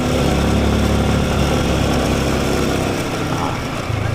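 Small motorcycle engine on a village road in the Philippines, a loud, steady motor drone that fills the whole stretch, running close by without pause.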